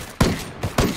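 Gunfire bursts in the Ghost Recon Wildlands game, fired to suppress an enemy: three loud, sharp broadband volleys at irregular intervals over a constant background roar, with no talk.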